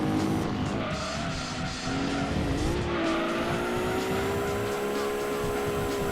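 Racing cars in Gran Turismo 2, including a Nissan Skyline with over 700 brake horsepower, roar around the track with a loud, rising and falling engine whine and tire squeal running continuously.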